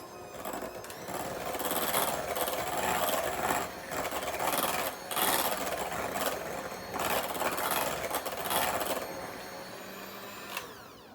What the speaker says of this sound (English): After you add that in, you can whisk it around one more time.